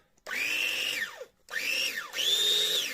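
A SOKANY SK YM 7034 meat chopper, modified and cleaned, runs empty in three short motor bursts that whine up in pitch and wind down between them, loud and close with no talk.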